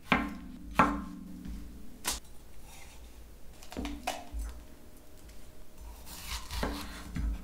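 A knife cuts through red pepper on a cutting board, giving several sharp chops scattered across the stretch with quieter scraping between them, close and fairly clear with no talk.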